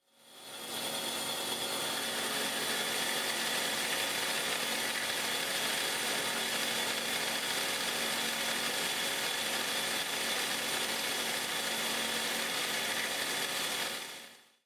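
A Magnum Hi Lo saw blade cuts through a 4.5 by 6 inch block of S7 shock-resistant tool steel, giving a steady, loud, continuous grinding rasp with a faint ratcheting texture that holds unbroken for the whole stretch.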